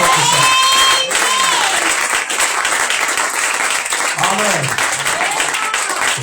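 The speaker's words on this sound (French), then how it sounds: "Est-ce que quelqu'un peut acclamer le Seigneur Jésus-Christ? Plus fort que ça." A church congregation claps and cheers in praise of Jesus Christ, a dense, loud wash of applause that carries on throughout while voices call out over it.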